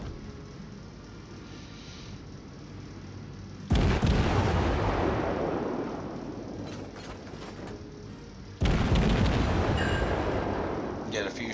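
Guns of the Gremyashchy, a Tier 5 premium destroyer in World of Warships, fire twice in this game audio: each shot is a sudden heavy boom with a long rumbling tail, with a voice talking throughout.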